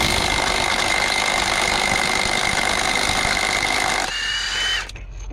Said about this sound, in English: we're gonna adapt it, and we're gonna try to bust this off.